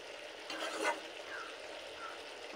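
Piali fish curry with tomato and coriander simmers in a pan with a little oil, a soft, steady sizzle and bubble, briefly louder around one gentle stir, close and quiet without talk.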